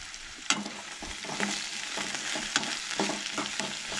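Chicken curry masala being stirred and roasted in a pan, a steady sizzle with scraping spoon strokes and clicks against the metal, close and moderately loud, with no talking.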